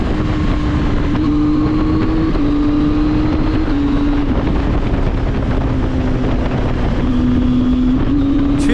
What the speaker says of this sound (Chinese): 让我再试一下这一档的冲击，看看磨合期能不能动力翘得起来。